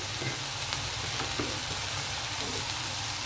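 Ginger, garlic and tomato pieces fry in a pan with a continuous soft sizzle and faint occasional stirring scrapes, fairly quiet and even throughout, with no voices.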